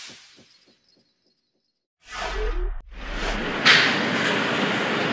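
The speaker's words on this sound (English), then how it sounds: "This is a Manhattan-bound F train via the D line." A Manhattan-bound New York City subway F train, running via the D line near 20th and 18th Avenues, rumbles and roars loudly along the rails after a brief quiet stretch, with a low steady grind and a sharp metallic swell near the end.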